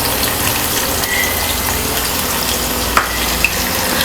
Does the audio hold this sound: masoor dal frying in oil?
yes